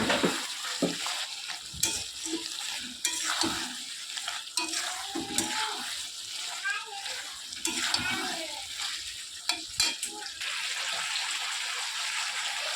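Sugar being stirred into a fried mustard curry with drumsticks in a pan, a soft scraping stir and faint sizzle running throughout, with a few sharper clinks and someone talking over parts of it.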